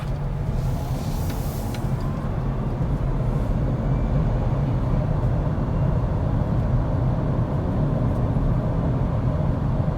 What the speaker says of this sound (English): let's take this electric vehicle on the road in the normal mode right now and see the acceleration on the regular drive